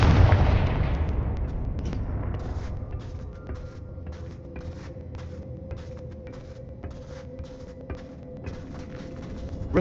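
A Confringo blasting spell bursts in Hogwarts Legacy with one loud, close explosion at the start, then a long fading rumble that settles into quiet ambient hum with scattered small clicks.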